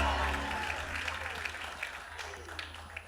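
A church congregation applauds and cheers at a Jesus festival gathering, a dense continuous wash of clapping that stays loud throughout, with scattered sharper claps standing out.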